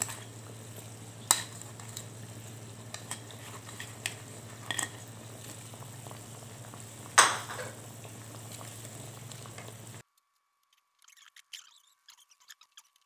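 Layur fish and fried tofu simmering in yellow spice sauce: a steady low bubbling hiss runs throughout, with occasional utensil clinks, before it cuts to near silence with a few faint taps at the end.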